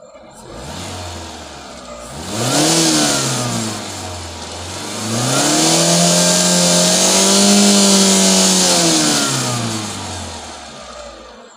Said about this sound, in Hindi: आपको साउंडिंग भी समझ में आ रही होगी इंजन की, कि साउंडिंग कैसी हो रही थी पहले और अब कैसी हो रही है